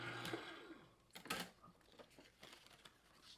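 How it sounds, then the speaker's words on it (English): A die cutting machine runs a paper tag through its rollers, with a short whirring mechanical pass and a few clicks and clunks, close and fairly quiet, with no talking. "So we just send this through the die cutting machine."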